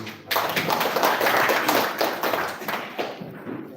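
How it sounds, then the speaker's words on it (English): An audience at a media summit in Bujumbura, during a social communication week, breaks into dense, sustained applause that swells quickly, stays full for a few seconds, then gradually thins out. "I clap for you."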